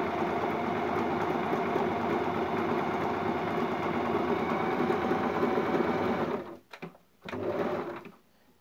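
A Singer Tradition sewing machine runs a zigzag stitch in a steady, loud mechanical whir that goes on for about six seconds, then stops with a couple of short stuttering bursts at the end.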